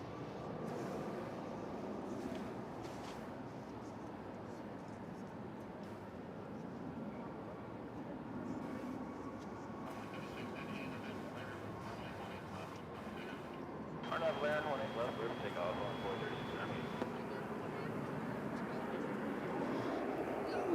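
An American Airlines passenger jet from Mexico City arrives at DFW Airport with a distant, low rumbling engine roar that swells slightly toward the end, under someone talking.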